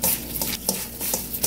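Pieces of hairtail fish being stirred and tossed with coarse and fine chili powder for fermented fish sikhae: wet, sticky squelches and scrapes come in irregular bursts, close and fairly loud, with no talking.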